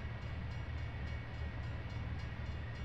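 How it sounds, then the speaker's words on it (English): A train rumbles past in the American Truck Simulator video game, a steady loud low roar with no break over about three seconds. "Oh, I hear a train."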